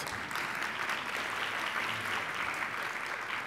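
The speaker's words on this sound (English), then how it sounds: "Let's give her a big round of applause." Steady applause from an audience at a legal awards event, a dense wash of clapping that stays even throughout without voices rising above it.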